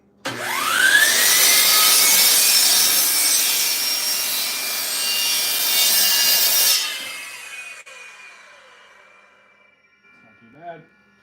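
Hand saw cutting a relief cut into wood, a loud continuous rasping stroke lasting several seconds, then fading off into quiet with a faint short scrape near the end.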